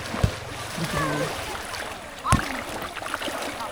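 Splashing in cold river water while bathing in the early evening, two distinct splashes against a steady rush of flowing water, with voices talking throughout.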